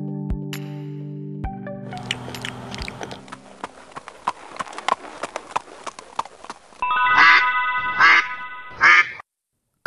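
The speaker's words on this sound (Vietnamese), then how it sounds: "Con vịt kia rồi, nhưng nó ở giữa biển khơi, làm sao bắt được?" A cartoon duck in an animated fairy tale gives three loud, nasal quacks near the end, after a stretch of clip-clopping hoofbeats and bright musical tones.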